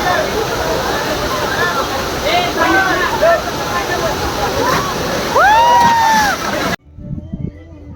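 Gokundi waterfall near Lonavala gives a constant rushing roar as people jump in. Voices and shouts rise over the falling water, and the sound then cuts off abruptly near the end.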